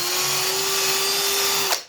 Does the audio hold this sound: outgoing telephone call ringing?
no